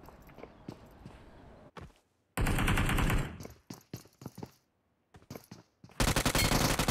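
Rapid gunfire bursts in PUBG Mobile, a mobile battle royale game, shooting at a building, loud repeated volleys separated by brief pauses, with footsteps and short sharp shots in between.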